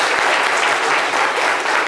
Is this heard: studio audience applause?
yes